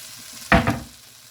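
Curry paste being stirred into a frying pan while cooking a spinach, potato and chickpea curry: a single brief scrape and sizzling rustle, close and short, then fading quickly.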